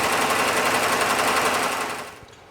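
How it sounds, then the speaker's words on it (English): An embroidery machine stitches a custom logo onto a uniform garment, its needle hammering up and down in a fast, steady buzzing chatter that runs loud and close, then stops abruptly near the end. "Here you see the needle going up and down as it creates the logo."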